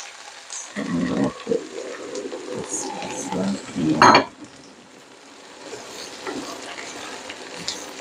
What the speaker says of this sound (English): frying together with the meat and nopales, I'm gonna put the sauce.